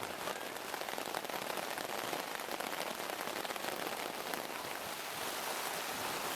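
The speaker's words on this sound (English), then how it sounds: "As you can hear, the rain is, and there's rumbling in the background" Heavy rain pours steadily and loudly during a storm in Norfolk, a dense continuous hiss with patter throughout; no distinct thunder rumble stands out beneath it.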